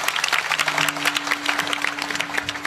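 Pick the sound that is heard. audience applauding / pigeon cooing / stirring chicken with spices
audience applauding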